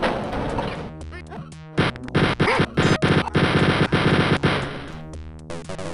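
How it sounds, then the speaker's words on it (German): Heavy automatic gunfire from the video game Wolfenstein 3D, shooting through a wall: loud repeated rapid bursts of close shots filling most of the stretch, with short pauses between volleys. "Und dann jetzt voll durch die Wand geballert"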